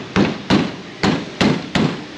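Five sharp knocks on the hood of a Jeep Cherokee 4.0, hard hollow metal raps spaced unevenly and close up, with quiet gaps between them.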